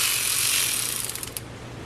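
A 5 mm Allen wrench on a ratchet backing out a motorcycle cam chain tensioner bolt, a brief run of close, fast metallic ratchet clicks that slow and fade.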